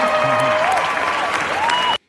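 Steady applause from a gala audience at a performance, dense clapping running continuously for about two seconds before cutting off abruptly, with faint crowd murmur underneath.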